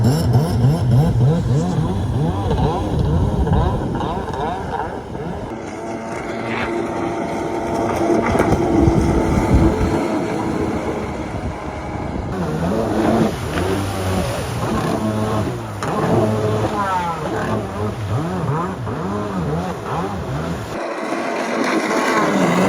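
A 1991 jet ski with a carbureted engine runs steadily and revs on open water, a buzzy mid-pitched drone rising and falling throughout with splashing and wind noise.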